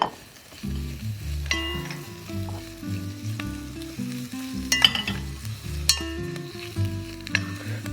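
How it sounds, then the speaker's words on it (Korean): Napa cabbage stir-fried in oil in a pot for a Korean cabbage and pollock-roe soup, giving a steady close sizzle and fry with occasional stirring scrapes, alongside low tonal sounds. "이제 배추를 넣고 같이 볶으시는 거죠."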